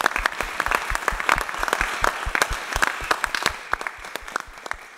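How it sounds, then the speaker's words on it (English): A live audience at an Expo 2020 Dubai event in London applauds for five seconds, a dense wash of sharp individual claps at steady strength with no voices on top. "Give yourselves a round of applause."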